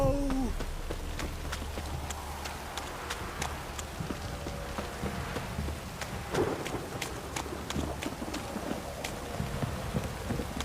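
Heavy rain pours down in the video game The Witcher 3, a steady hiss of rainfall with scattered sharp drops and ticks against surfaces, a low rumble underneath, and a brief voice in the middle.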